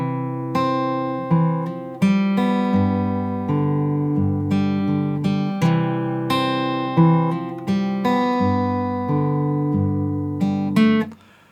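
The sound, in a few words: guitar fingerstyle playing first line of a song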